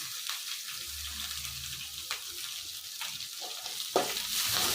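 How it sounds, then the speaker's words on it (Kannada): Spring onions fry in hot oil with a steady, close sizzle, broken by occasional soft stirring scrapes, and no talking. "ಇವೆಲ್ಲ ಎಣ್ಣೆ ಫ್ರೈ ಆದರೆ ಚೆನ್ನಾಗಿ ಟೇಸ್ಟ್ ಕೊಡುತ್ತೆ."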